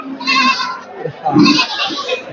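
Garol sheep, including pregnant ewes, bleat loudly and close by at the Hazratpur livestock market, two drawn-out wavering calls one after the other.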